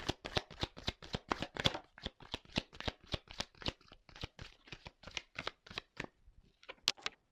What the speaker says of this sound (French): je prends les cartes